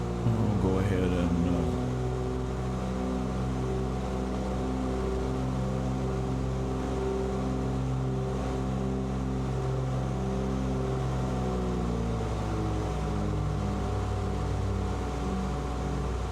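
Cessna 414W twin piston engines in Microsoft Flight Simulator 2024 drone steadily throughout, a continuous close cockpit hum with layered tonal harmonics and no pauses.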